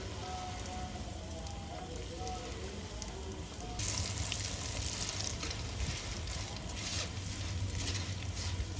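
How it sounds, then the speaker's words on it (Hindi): Poha (flattened rice) deep-fries in hot oil in a sieve set in a kadhai for chivda namkeen. A steady sizzle jumps noticeably louder partway through and then keeps crackling densely. "हुण असीं पोहे नूं तलना है।"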